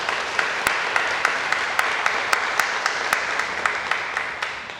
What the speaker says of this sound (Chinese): 咱会当用拍手来欢迎。